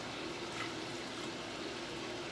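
Water being poured into a pot of cooking pasta on a stove, a steady, fairly soft rushing pour that runs unbroken and alone.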